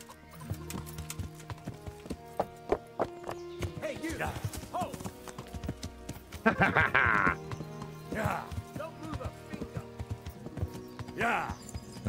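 Rhythmic clip-clop of horse hooves over game music in Kingdom Come: Deliverance, with occasional horse snorts and whinnies rising above the steady trotting.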